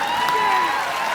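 A studio audience at a comedy show claps in a dense, steady burst of applause, with a sustained voice or tone ringing over it throughout.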